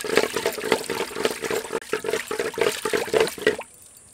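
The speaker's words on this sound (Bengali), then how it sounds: "একই পদ্ধতিতে আবারও খুব ভালো করে ঘুটে নেব।" A mango ghol buttermilk drink is churned by the traditional village method, making rhythmic, close sloshing liquid strokes about twice a second that stop suddenly near the end.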